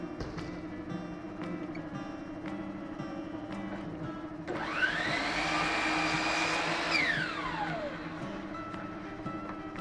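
A power saw cuts a piece of crown molding during an interior home renovation, spinning up into a loud whining cut for a few seconds and then winding down, with steady background hum before and after.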